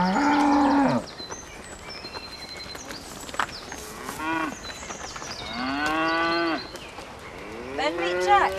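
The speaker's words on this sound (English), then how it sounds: "Are these all your cows?" Cattle on a farm mooing loudly, several long drawn-out bellows from different cows in turn, close by, with no talk over them.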